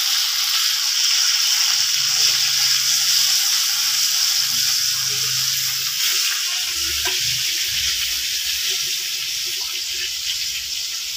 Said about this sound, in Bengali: পেঁয়াজ দিয়ে এবারে ভেজে নেবো